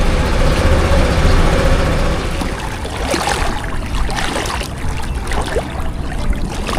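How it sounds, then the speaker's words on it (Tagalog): A motorcycle engine warms up at idle outdoors before a ride, a steady loud low rumble that runs continuously throughout, with no talking over it. "Painitin ko lang itong aking motor para mamaya mainit na yung makina bago natin gamitin"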